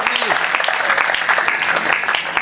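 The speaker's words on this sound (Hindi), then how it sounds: "एक बार जोरदार तालियां बजा दीजिए" Loud, dense clapping from an audience at a poetry gathering (kavi sammelan) in the AMNS township, sustained and close, with a few voices mixed in.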